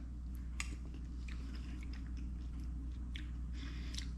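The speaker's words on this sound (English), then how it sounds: "Let's give this a try." Someone eating a ham, potato and squash stew, with soft, close chewing and a few wet bites over a steady low hum of background noise, no talking.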